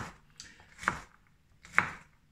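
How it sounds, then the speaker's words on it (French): Kitchen knife cutting peeled vegetables into cubes for a Spanish-style risotto, two distinct sharp chops against a board, close and clear with quiet scraping between, in a quiet room. "on les coupe en cubes"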